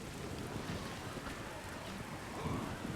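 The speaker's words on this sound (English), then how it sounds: "We've got the bad rain and the good rain. This is the good rain." Steady rain hisses without a break in the strategy video game Age of the Ring, a dense, even wash of noise at moderate level with a faint low rumble beneath it.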